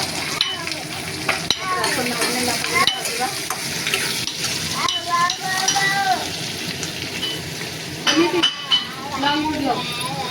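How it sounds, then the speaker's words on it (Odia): Chopped onion and garlic sizzle in hot oil with cumin in a home kitchen pan while a utensil stirs and scrapes against the metal, with people talking over the frying. "ଏଥର ପିଆଜ ରସୁଣ କଟା ପଡ଼ିବ।"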